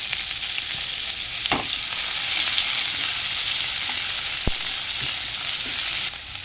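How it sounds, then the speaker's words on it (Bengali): Two chopped onions fry in hot oil with a loud, steady sizzle, with a few sharp clinks of a utensil stirring the pan and no talking. "এই তেলের মধ্যে আমি পেঁয়াজ কুচি দিয়ে দেবো।"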